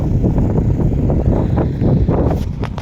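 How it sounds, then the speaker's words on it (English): Strong wind buffets the microphone in a desert snowstorm, a loud continuous low roar with gusting swells and no speech. "I know it's windy."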